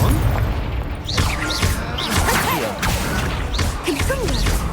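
Explosive Confringo blast spells go off in Hogwarts Legacy, a series of booming impacts with whooshing, crashing effects that repeat every second or so over constant combat noise.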